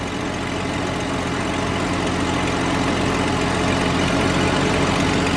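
A Jeep Cherokee engine idles during a fuel pressure test, a loud, steady, even drone with a low rhythmic pulse, close and continuous with no talk.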